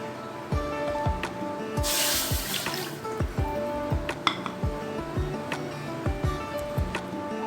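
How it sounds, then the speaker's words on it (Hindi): Water is poured into a kadhai on a lit stove, a short splashing gush amid repeated metallic clinks and taps of cookware. The sounds are close and fairly quiet. "सबसे पहले हम एक कढ़ाई ले लेंगे और फ्लेम ऑन करके इसके अंदर पानी डाल देंगे।"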